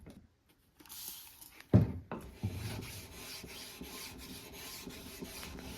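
Old knife from a great-grandfather being sharpened on a very fine 12,000 grit whetstone: quiet, soft rasping strokes with a light knock near the start, faint and close with no talk.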